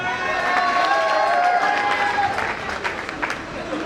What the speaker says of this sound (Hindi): जबरदस्त तालियां कमल दी गई है।